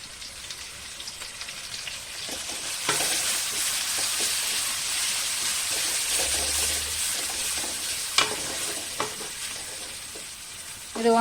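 Onion, ginger and garlic sauté in a pan with a continuous hiss like light rain, plus occasional utensil scrapes and a clack near the end, moderately close and with no speech.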